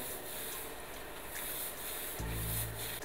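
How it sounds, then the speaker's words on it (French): Broom bristles brushing dust off pieces of wood before gluing, heard as a continuous close, dry rubbing swish that gets slightly louder and heavier near the end. "Anto nous dépoussière ça magnifiquement bien"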